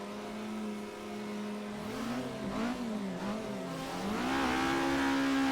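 A 1969 Isuzu Bellett GTR in the Assetto Corsa racing game lapping Suzuka, its engine droning steadily and then rising and falling in pitch through gear changes and cornering, loud and continuous with no talk.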